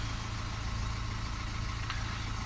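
A BMW Mini diesel engine with a particulate filter fault idles steadily with a low, constant rumble and broadband mechanical noise, unchanging throughout.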